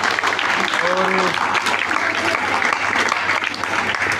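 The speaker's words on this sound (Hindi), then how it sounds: "तो तालियां बजाएं भाई सभी।" An audience at a school event in Haryana claps steadily, a dense wash of applause that stays loud throughout, with a voice briefly speaking over it.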